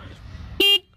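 A Honda Shine SP 125 motorcycle horn gives one loud, short toot lasting about a fifth of a second, cutting through quiet low background noise.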